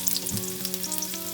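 Sliced zucchini fries in a generous amount of oil for a zucchini-with-yogurt dish, a soft, continuous sizzle and crackle alone, with no talk.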